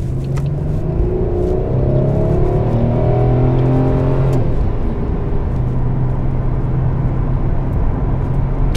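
A Chevy, Buick or Pontiac car repaired for a reduced engine power fault accelerates on a test drive, engine rising steadily through the revs before a shift, then settling into steady road and engine noise, loud from inside.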